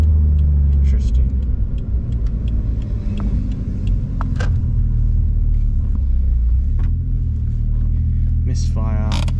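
A Toyota 1JZ engine with a misfire rumbles loudly through a custom exhaust, holding a deep, uneven drone at close range while a voice is heard faintly.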